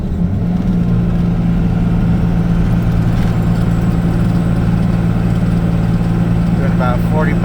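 A 12-valve Cummins diesel pickup towing a heavy load drones steadily in a low, loud rumble, the engine note shifting slightly as it moves up into sixth gear.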